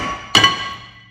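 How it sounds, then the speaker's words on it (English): A hammer knocks twice in quick succession on the back edge of a rear brake disc on a Vauxhall Mokka, giving a sharp metallic ring that decays slowly with no talk. "A couple of taps on the side of the back there."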